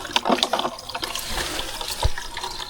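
Water runs and splashes at a small mountain water source, a close, bright trickling with irregular splashy bursts through the short stretch.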